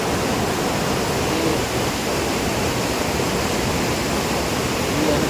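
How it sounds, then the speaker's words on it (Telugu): Waterfalls at the Sita Devi temple in Ashok Vatika near Nuwara Eliya, Sri Lanka, giving a dense, loud, unbroken roar of rushing water that fills the whole scene. "ఇదంతా వాటర్ ఫాల్స్"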